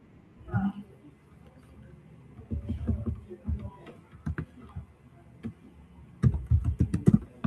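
Computer keyboard keys tapped during an online class, scattered clicks and short bursts of typing close by, with quiet room noise and faint voices between the keystrokes.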